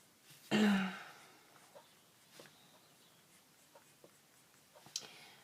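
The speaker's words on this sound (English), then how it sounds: "Of course this is only being roughly sketched just to show you." A pencil sketching a face on paper gives one loud, scratchy stroke near the start, then faint, scattered scratches and taps in a quiet room.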